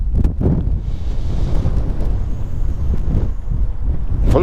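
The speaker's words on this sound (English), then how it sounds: "that's the problem with this wind" Coastal wind buffets the microphone with constant low rumbling and gusty thumps, loud and unbroken for the whole stretch.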